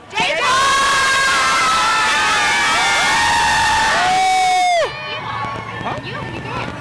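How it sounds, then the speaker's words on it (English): A crowd of fans at a tour event in San Francisco screams and cheers loudly and continuously, then the roar cuts off abruptly and quieter voices carry on. "Oh, what are you guys screaming for?"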